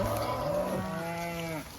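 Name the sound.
cattle mooing in a cow mob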